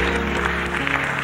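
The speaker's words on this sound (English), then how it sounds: "Clap your hand." A church congregation claps during a sermon, a brief, dense patter of hands over a steady low hum of organ or sound system.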